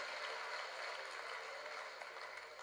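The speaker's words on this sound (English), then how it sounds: "A huge round of applause for these 5 guys." Applause from a crowd at a university convocation ceremony, a steady wash of many hands clapping that stays faint and distant for the whole moment, with no voices on top.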